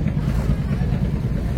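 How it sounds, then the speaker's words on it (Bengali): A passenger river launch on a Dhaka river route pulls away from a ghat. Its engine gives a steady low rumble mixed with wind and water noise, with faint talk in the background. "এবার লঞ্চটি তার পরবর্তী গন্তব্যের জন্য রওনা দিয়ে দিয়েছে।"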